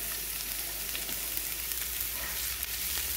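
Onions frying in about a tablespoon of oil in a pan, a steady close sizzling hiss that holds evenly throughout with no talking.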